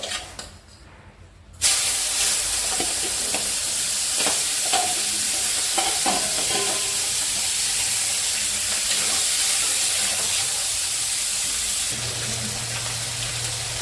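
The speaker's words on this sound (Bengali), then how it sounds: "তেল গরম হয়েছে এখন মাছটি দিয়ে দিই" Fish drops into hot mustard oil and bursts into a loud, dense, continuous sizzle and hiss close by, holding steady for several seconds after a quieter start.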